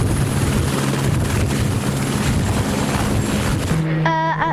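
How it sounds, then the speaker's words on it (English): A helicopter taking off for a ride around an airport makes a loud, steady roar of rotor and engine that fills the whole stretch and swells slightly near the end, with no speech over it. "Their first order, a helicopter ride around the airport."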